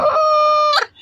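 A country chicken gives a single loud, drawn-out squawking call when touched, steady and close for most of a second before breaking off, with no talk.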